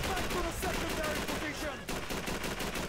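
Rapid bursts of gunfire in Call of Duty 3, dense automatic shots crackling loudly and continuously, with a short gap near the middle.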